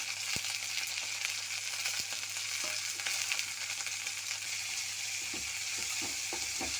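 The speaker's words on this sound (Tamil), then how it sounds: "இது நல்லா எண்ணெயில் நல்லா வதங்கணும்." Kuppaimeni leaves sautéing in hot oil for a chutney, a steady close sizzle and frying crackle with a few soft stirring clicks throughout, no voices.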